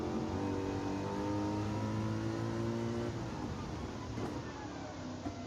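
A race car engine in Gran Turismo 7 drones loudly and steadily, a sustained, close mechanical whine that holds its pitch before easing and shifting near the end, with no talk over it.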